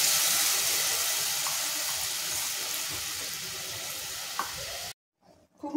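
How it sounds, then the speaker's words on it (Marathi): Crab soup with ground spice juice bubbling at a steady boil in a pot, a dense continuous hiss and simmer at close range for about five seconds before cutting off abruptly. "खूप मस्त उकळी यायला लागलेली आहे।"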